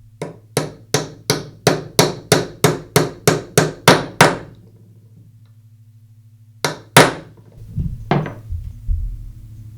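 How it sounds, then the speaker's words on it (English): Hammer tapping a socket to seat a bearing onto the spindle of a Makita angle grinder during a spindle gear repair: a steady run of about a dozen sharp metallic taps, then a short pause and a few more blows, close and loud. "I'll place the socket on the race and tap it in place with a hammer"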